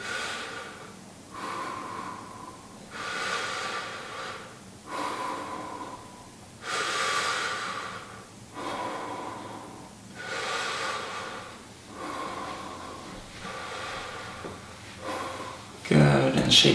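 Slow, deep breathing during a seated stretching exercise, with regular audible inhales and exhales repeating about every two seconds, close and steady, ending with a brief sharp noise.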